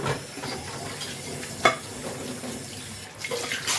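Dishes being scrubbed at a kitchen sink with running water: steady watery rubbing and splashing, a single sharp clink of a pot partway through, and more scrubbing at the end, fairly quiet with no talk.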